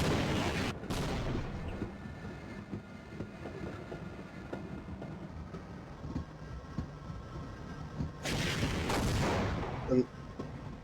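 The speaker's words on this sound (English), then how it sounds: "Yeah, that's a rocket launcher." Rocket launcher fire in the video game Half-Life, with sharp blasts at the start and near the end over a steady rumbling train-ride background; no speech.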